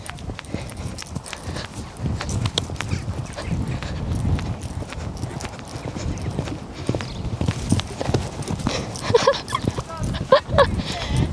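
Hoofbeats of a horse being jumped bareback, a steady clip-clop of strides with thuds on landing, close and moderately loud amid outdoor ambience, with some voices and light animal noise around.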